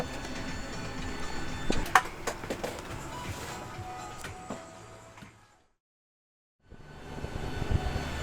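A fixed-wing airplane's engines drone steadily during flight, a broad loud roar with occasional clicks and knocks, then a sudden second of silence before the drone comes back.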